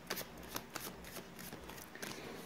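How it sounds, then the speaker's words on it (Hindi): Tarot cards being shuffled by hand, soft papery riffles and flicks repeating at a steady pace, close but quiet, with no talk. "मैंने कर ली है कार्ड्स की सफलिंग"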